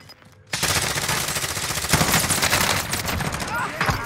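Sustained automatic gunfire in the video game Warzone, dense and loud bursts of rapid shots running almost without pause after a quiet start, with a faint voice briefly underneath.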